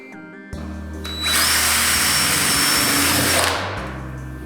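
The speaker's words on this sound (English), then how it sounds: "Drill holes with a diameter of 5 mm into those shelf profiles that will be on the left and right-hand side." A power drill bores 5 mm holes into metal shelf profiles for an LED shelf system, spinning up after a brief click and whining loudly and steadily for about two seconds before winding down.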